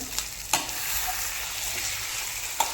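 Liver (kaleja fry) frying in a pan sizzles steadily while a spoon scrapes and stirs it, with a few sharp clinks of utensil against metal over the hiss.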